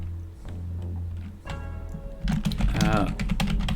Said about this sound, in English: as I'm typing this out and talking aloud